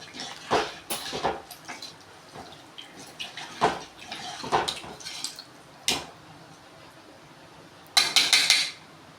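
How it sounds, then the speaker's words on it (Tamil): Puli kulambu, a South Indian tamarind curry with salt just added, stirred in a pan with a metal spoon, giving scattered scraping and clinking knocks, a few bright bursts and a final louder cluster of clatter, with no voices. "இப்போ மொத்தமாக நல்லா கிளறி விட்டுக்கலாம்."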